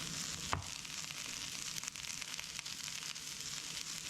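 Sliced ginger pieces sizzle steadily in a hot pan, a continuous close frying hiss with light crackles and one brief clink near the start, no voices.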